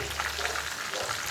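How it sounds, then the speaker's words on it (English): Hot oil sizzles and crackles steadily in a home kitchen as food fries, a close, continuous spattering hiss with small pops, with no talk over it. "This is why I don't like frying things."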